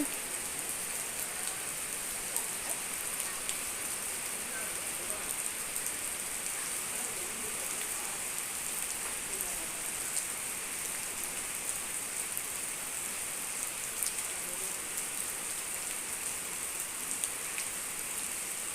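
Steady rain pours down continuously for the whole stretch, an even hiss of drops with no voices.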